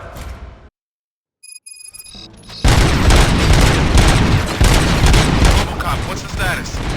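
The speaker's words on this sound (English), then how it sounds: "Gunshots? What's going on?" Gunfire in the video game RoboCop: Rogue City erupts after a short silence and an electronic ringing tone, a loud continuous barrage of booming shots and crackling rounds with voices mixed in.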